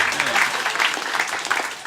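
Dense, steady applause from a crowd, sustained clapping that fills the whole stretch without pause.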